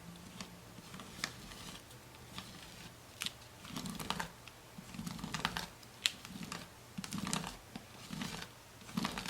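A scraper drags leftover white paint across a stencil in short, rhythmic scratchy strokes, close up, with light clicks and taps between passes and no talking.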